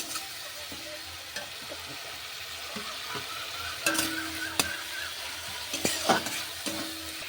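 Potato pieces stirred around in hot oil in a pan, giving a continuous close sizzle with irregular scraping and clattering from the spatula, louder in the second half.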